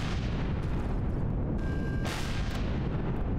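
Rocket explosions boom in the sci-fi game Empyrion during an attack on a Zirax turret base. A dense, loud, continuous roar of blasts and rumbling fire fills the clip, with no voices heard.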